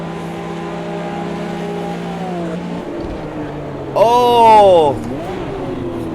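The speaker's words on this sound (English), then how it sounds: "the sound of that overrun just there was just gorgeous" Porsche RSR race car engine in the Automobilista 2 racing game, a steady drone that swoops down in pitch as the throttle lifts, with a loud burst of overrun crackle and rising whine near the end, a voice briefly exclaiming.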